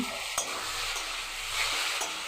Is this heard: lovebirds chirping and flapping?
no